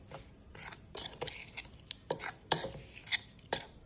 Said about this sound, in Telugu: పొడి వేసుకొని ఇది బాగా కలుపుకోవాలి